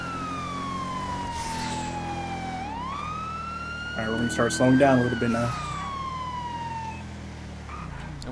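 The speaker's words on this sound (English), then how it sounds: "I'm turning my siren off." Police car siren in a roleplay video game, a steady wailing tone sweeping down then up while the vehicle drives, with someone talking over it midway.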